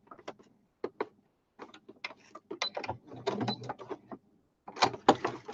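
A sewing machine works in short, separated mechanical bursts as it stitches down tiny fabric applique pieces, with brief near whirs and clicks between quiet gaps.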